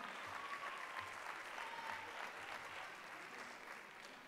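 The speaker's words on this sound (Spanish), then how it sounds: "Fuerte el aplauso para" Audience applause at a sports awards gala in Ceuta: steady, dense clapping from a large crowd, sustained and even throughout, heard from some distance and fairly soft.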